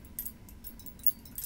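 Gold chunky hoop earrings made of recycled metal jingle with light metallic clinks, a few bright jangles spaced across a short moment, close and fairly quiet.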